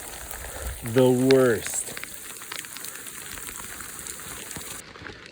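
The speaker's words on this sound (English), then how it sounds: "Worst rain out of all times." Heavy rain pours down around people sheltering under a tree, a steady hiss throughout; a person briefly speaks over it near the start.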